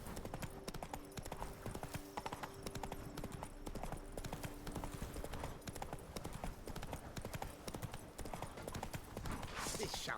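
Hooves of Roach, the horse in the video game The Witcher 3, clip-clopping in a steady, brisk rhythm throughout, with a spoken voice over it and a brief whinny-like burst at the end.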